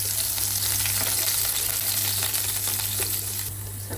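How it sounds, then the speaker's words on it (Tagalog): Garlic and onion sauté for kare-kare, a loud, dense, continuous sizzle of oil in a pan, heard close with no voices. "Magigisa naman tayo ng bawang sibuyas para sa kare-kare."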